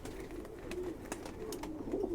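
A young Khaki pigeon, a pure Rampuri bred with a Sialkoti touch, coos softly in a few low, rolling phrases close by against steady background noise.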